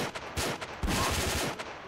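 Rapid bursts of gunfire in Garry's Mod on an underground bunker map crackle loud and close, with dense overlapping shots filling the moment.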